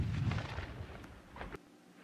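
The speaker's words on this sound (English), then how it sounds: "4 cannon shots can be heard in the distance." Distant cannon shots as a sound effect: a few muffled booms with rumbling tails, fairly faint, spaced apart over a couple of seconds.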